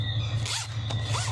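A by-the-yard zipper is handled while a pouch is sewn, giving two or three short, quiet rasping zips over a steady low background hum, with no talking.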